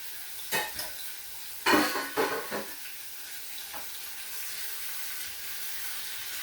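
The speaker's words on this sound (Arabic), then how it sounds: "غنخليها الدجاج يتشحر، عاد ندير عليه الباقي من المكونات" Marinated chicken browning in a tagine with garlic and herbs sizzles under a soft continuous hiss, broken by a few sharp scraping stir strokes early on, close and without talk.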